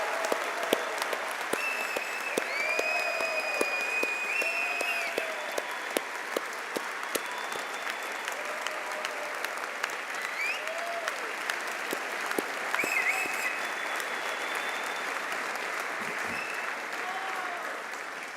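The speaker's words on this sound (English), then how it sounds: "it's time to give yourselves a big round of applause to celebrate your achievements." Audience applause fills a university graduation ceremony hall, steady dense clapping lasting throughout with occasional whoops and cheers rising over it at moderate distance.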